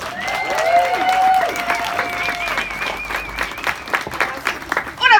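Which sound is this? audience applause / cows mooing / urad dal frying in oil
audience applause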